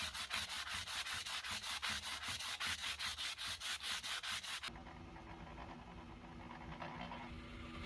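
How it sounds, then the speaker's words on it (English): Sandpaper of a finer grit rubs back and forth along a leather edge in quick, rhythmic scratchy strokes, close and steady for several seconds before stopping, followed by quieter background noise. "Finish the sanding with a finer grit for a more finished look."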